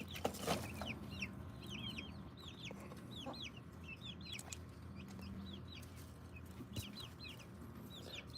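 Silkie chickens, including a rooster, cluck and chatter steadily in a backyard homestead coop, with many short overlapping calls near and slightly farther off and faint wild birdsong above.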